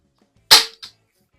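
Two spring-piston pops from a Healthways 175 BB pistol: one sharp, loud crack followed about a quarter second later by a smaller, quieter snap, in a quiet indoor setting.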